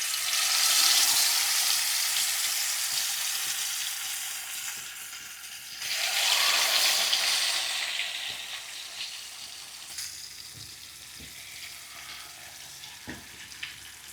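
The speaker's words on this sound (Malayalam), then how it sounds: "ഇനിയിപ്പോൾ നമുക്ക് മീൻ ഇട്ടിട്ട് വറുത്തെടുക്കാം." Fish fries in hot oil with a loud, continuous sizzle that swells for a moment and then eases to a softer crackle with a few clicks.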